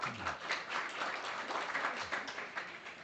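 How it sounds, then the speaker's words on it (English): An audience at a memorial lecture breaks into steady applause, many hands clapping together in a soft, continuous patter that fills the room for a few seconds. "Okay, let's keep the applause for after announcement."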